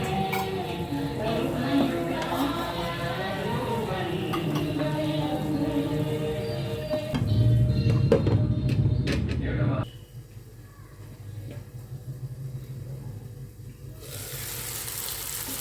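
Banana flower curry being stirred in a pan, soft scraping and gentle sizzling beneath a voice speaking, louder stirring bursts midway before the sound drops off.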